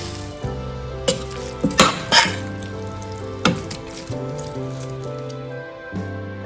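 Soya chunks dry frying in coconut oil, stirred in a pan: a low sizzle under sustained musical tones, with several sharp scraping and clattering stir strokes near the start and middle, close and clear, no voices.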